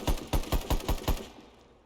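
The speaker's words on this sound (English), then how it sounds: "it's kind of like they're a little bit of airsofty sounding, but at the same time, they do have real gun sounds" Six evenly spaced shots from a SAR rifle in the Rust video game ring out in a quick rhythmic burst, each crack sharp and close, followed by a fading tail.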